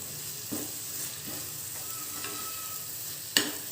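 Mint, coriander and curry leaf pickle with tamarind sautéing in oil in a pan, a steady close sizzle with soft periodic stirring scrapes and a sharp clink near the end.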